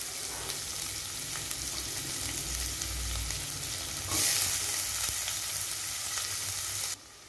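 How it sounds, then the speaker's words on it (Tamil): Chopped onion fries with fennel seeds in a pan for an egg and crab meat bhurji. A steady close sizzle with crackles is stirred now and then and grows louder midway before dropping sharply near the end. "சோம்பு நல்லா பொரிஞ்சதுக்கப்புறமா நம்ம ஒரு பெரிய வெங்காயத்தை சின்ன சின்னதாக கட் பண்ணி இதில் சேர்த்துக்கலாம்."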